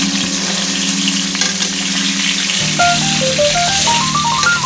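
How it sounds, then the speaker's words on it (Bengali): Hilsa fish fry lightly in a pan with a steady, loud sizzling hiss that runs unbroken throughout, while faint melodic tones rise over it in the second half. "আর হালকা ভাজা করতে হয় ইলিশ মাছ, বেশি কড়া ভাজা করতে হয় না।"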